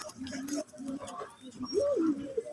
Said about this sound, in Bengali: এটা দেখি এই পায়রাটা